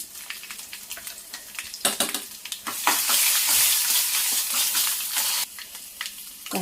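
Crushed dried red chillies and garlic hit hot tempering oil for a Telugu chutney, a bright sizzle swelling louder midway with stirring and pan clatter, no talk.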